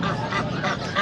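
Several geese honk loudly and continuously at a pet market in Bocaue, overlapping calls close by amid a busy, noisy background.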